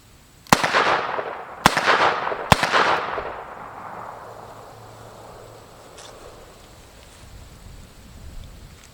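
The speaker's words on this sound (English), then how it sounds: "Let's try some double action shots. We'll do 3 of those." A Chiappa Rhino .357 revolver fires three double-action shots about a second apart, each a sharp, loud crack followed by a long echoing decay outdoors.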